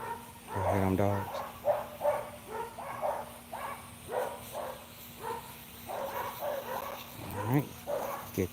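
Dogs at a suburban homestead let out a few sharp barks and yips, one near the start and another toward the end, amid quieter yapping and background noise.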